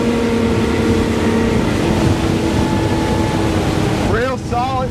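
A Mercury outboard on a Robalo 266 Cayman boat running through half-foot chop gives a loud, steady, close-up drone with wind and water wash, and a voice breaks in briefly near the end.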